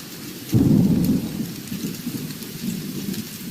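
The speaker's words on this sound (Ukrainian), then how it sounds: "Мабуть, дощик весняний, да?" Rain falling steadily with a deep rumble of thunder rolling in early, then a continuous soft patter.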